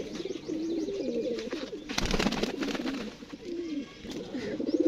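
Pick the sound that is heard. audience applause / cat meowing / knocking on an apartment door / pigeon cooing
pigeon cooing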